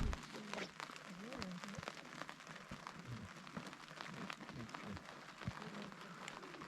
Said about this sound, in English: It's still drizzling and just cold